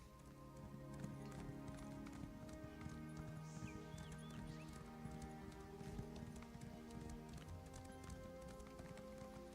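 Horse hooves clip-clop at a quick, even pace as a mount runs in the video game Elder Scrolls Online, sounding faint and steady under a constant soundtrack.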